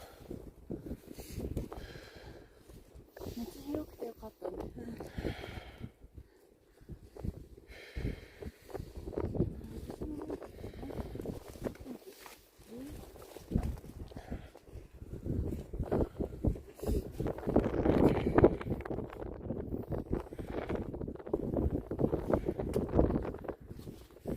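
Gusty wind on Mount Fuji buffets the microphone in uneven low rumbles, rising and falling over the stretch with no voices.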